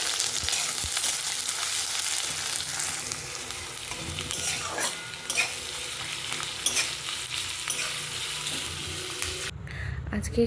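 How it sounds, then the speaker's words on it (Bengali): Potatoes fry in a pan with a steady, close sizzle and the scrape of stirring, running almost unbroken before cutting off near the end. "এদিকে আলুগুলোকে ভেজে নিলাম।"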